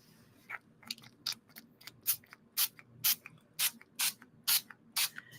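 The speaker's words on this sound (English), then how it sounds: "Spray some spray on there." Short bursts of ink spray hiss onto an art journal page, about a dozen quick sharp puffs in an irregular rhythm, close and crisp over a quiet background.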